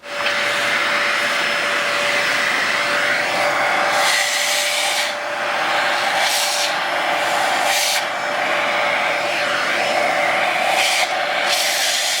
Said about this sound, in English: we're going to use this recklessly overpriced vacuum to get anything that's left out of there